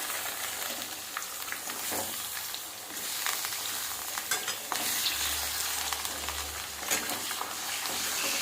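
Chicken pieces frying in a pan for Bengali-style basmati chicken pulao, a dense continuous sizzle with stirring scrapes breaking through, close and steady.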